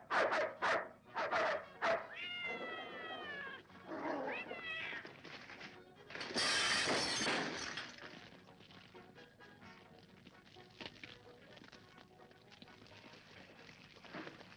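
A dog barks and yelps amid cat meows, the animal noises close and busy at first, then giving way to a quieter mix of scuffling sounds.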